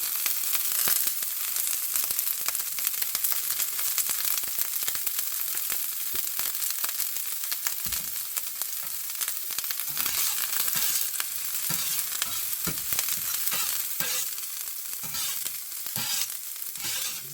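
Food sizzling in olive oil in a Smithey Farmhouse cast-iron skillet, a dense, continuous hiss with scattered crackles and pops, loud and close throughout with no talking.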